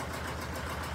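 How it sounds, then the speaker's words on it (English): A tractor engine idles steadily up close, its fan ticking lightly against the fan shroud in a fast, even rhythm under the engine drone. "you can hear that little tick tick is just the fan"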